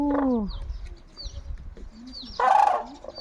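A black-necked crane gives a few low, hoarse calls with short pauses between them, over quiet background sounds and faint distant chirps, in Punakha.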